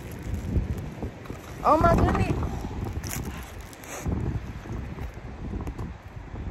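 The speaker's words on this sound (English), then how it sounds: "Hold on, this wind doing a little bit too much." Strong outdoor wind buffets the microphone in loud, rough gusts, rising and falling over the whole stretch while someone speaks briefly through it.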